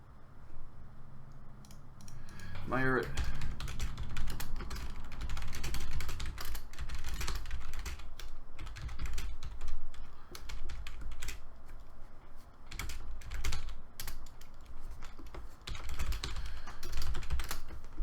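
Fast, continuous clacking of fingers typing on a computer keyboard, close and clear, in uneven bursts across the whole stretch with no talking.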